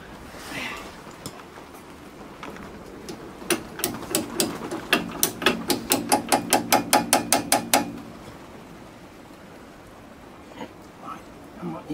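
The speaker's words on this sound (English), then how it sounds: "Like magic, I have a small hammer." A quick series of about fifteen metallic taps from a small hammer during a brake disc and pad change, speeding into a rapid rhythm before stopping, with a voice talking around them.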